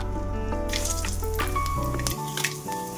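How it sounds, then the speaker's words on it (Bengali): Whole garam masala spices and cardamom sizzle in hot oil with steady, close crackling frying under faint background tones, no talking over it. "তো এখানে তেলে গোটা গরম মশলা ফোড়ন"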